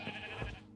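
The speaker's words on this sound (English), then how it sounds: "one is a screaming goat, and the other is just a regular variety goat" A Minecraft goat lets out a single short bleat, faint and slightly wavering, in a snowy game world.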